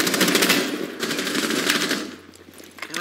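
Rapid automatic gunfire in Rainbow Six Siege, fired at a can, rattles out as a dense, loud burst of quick shots for about two seconds before trailing off.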